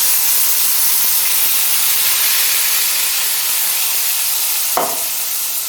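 Ginger, onion and tomato paste fry in oil for a brinjal dish, making a loud, constant, close hissing sizzle with one brief clack near the end and no speech.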